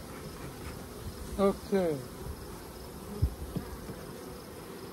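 Honeybees buzzing at a field hive being checked for mite resistance, two short close buzzes passing by over steady outdoor background, followed by a few soft thumps and a brief spoken word.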